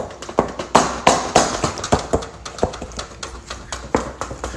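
Floorboards near a door gap in a new house clicking and knocking as they are pressed, a quick series of sharp, close, irregular taps with no talking.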